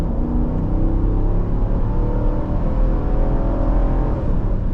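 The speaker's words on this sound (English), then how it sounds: "as loud as this HEMI is, it doesn't seep into the cabin too much." Engine drone of a 2026 Dodge Durango GT Plus with its HEMI V8, heard from inside the cabin while driving: a steady low rumble with a sustained deep hum and no speech.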